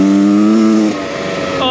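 A 2023 Beta Xtrainer 300 two-stroke enduro motorcycle being ridden, its engine droning loudly and close with a tonal buzz that drops in pitch, then climbs again as the throttle opens.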